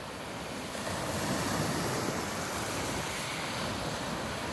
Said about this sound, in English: I love the waves, they're so cool.